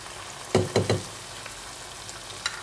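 Spice paste and ground spices hit hot oil with fried onions for a liver bhuna, a soft steady sizzle close by, broken early on by three quick clunks in a row, then a lone faint knock near the end.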